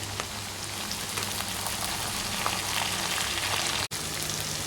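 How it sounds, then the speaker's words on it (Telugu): Tamarind, tomatoes and ginger-garlic paste fry in a pan for a stuffed brinjal tamarind curry, giving a dense, even sizzle close by that holds steady throughout, broken once by a brief dropout. "ఇప్పుడు చింతపండు టమాటోలు అల్లం వెల్లుల్లి ముద్ద కూడా వేసుకొని కాసేపు ఫ్రై చేసుకోవాలి"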